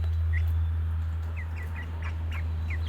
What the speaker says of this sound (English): That's a nice little bird.